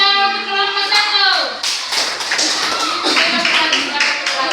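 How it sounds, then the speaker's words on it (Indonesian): Classroom applause for group 1 of students, starting after a voice and continuing as scattered, fairly close hand claps with voices talking underneath. "tepuk tangan untuk kelompok 1"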